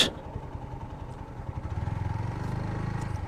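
A motorcycle engine runs at a steady low idle near a resort as the bike is brought to a stop, a close rhythmic putter that grows slightly fuller, after a brief knock at the start.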